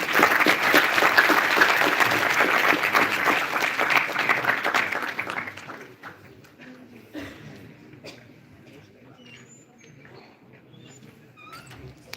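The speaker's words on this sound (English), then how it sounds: "Please give her a big round of applause." An award-ceremony audience at GIS Day 2022 at IGIS-NUST applauds loudly and steadily for about five seconds, then the clapping drops away to scattered claps and quiet room noise.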